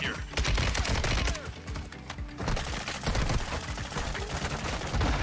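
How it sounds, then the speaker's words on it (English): Sustained gunfire from the video game Call of Duty Warzone 2, dense rapid volleys of shots crackling continuously and loudly throughout with little pause. "Oh, he's getting shot from the left side as well from by Wag."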